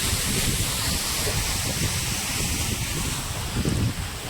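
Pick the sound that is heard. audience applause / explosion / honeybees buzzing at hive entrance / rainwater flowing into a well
rainwater flowing into a well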